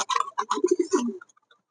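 King pigeons on a farm give a short run of soft, throaty coos close by, several quick pulses over about a second before quiet.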